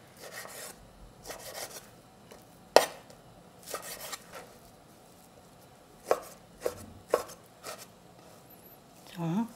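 Knife chopping a 4-ounce piece of beef brisket into small pieces on a board, a handful of sharp, irregular chops spaced apart with quiet gaps between them.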